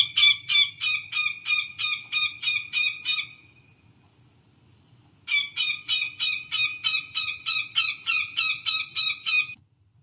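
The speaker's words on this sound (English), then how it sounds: "that's the alarm call of the northern goshawk" A northern goshawk gives its alarm call, a rapid, evenly spaced series of loud harsh cackling notes in two bursts separated by a short pause, clear and close against a quiet background.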